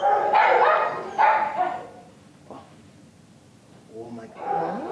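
A small stray Chihuahua at a Clackamas County animal shelter barks in short sharp bursts, two near yaps followed by a quieter yelp and whimper, with a person talking in between.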